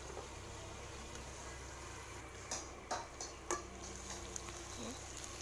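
Duck meat fries in a covered pan with a steady low sizzle, broken by a few soft clicks and taps of a lid or spoon in the middle.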